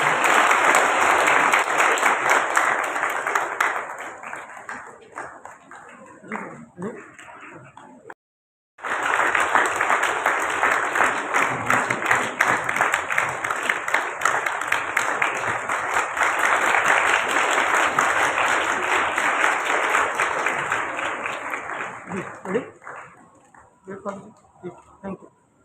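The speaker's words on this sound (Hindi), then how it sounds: "जोरदार तालियां बजाओ" At a Bible Marathon 2025 opening ceremony, an audience claps loudly and continuously, the applause breaking off for a moment and then resuming before fading at the end.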